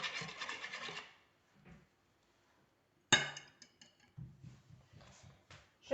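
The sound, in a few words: mixing cake dough ingredients with lemon zest in bowl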